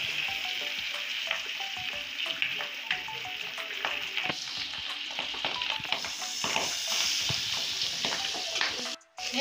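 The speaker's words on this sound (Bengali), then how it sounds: "আবার ভাজার জন্য বসিয়ে দিচ্ছি তাওয়াতে।" Pabda fish frying in oil on a tawa, a loud continuous sizzle with irregular crackles and pops, plus scraping of a spatula and occasional knocks; the sizzling cuts off abruptly near the end.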